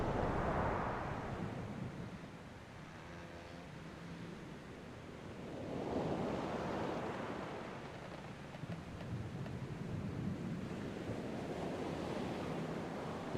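Ocean waves in the video game The Pale Beyond: slow swells of surf rise and fall in about three long washes, soft and steady under a constant windy hiss, with no voices.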